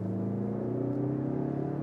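A Mazda CX-30 crossover in sport mode pulling out into traffic, its engine droning in a steady rising hum heard from inside the cabin, with no voices.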